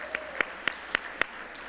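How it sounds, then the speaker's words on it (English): A few sharp, evenly spaced claps ring out at an in-person opening keynote for the Colorado Department of Health Care Policy, five distinct hand claps close by over a quiet room hum. "Can we get a round of applause for each other?"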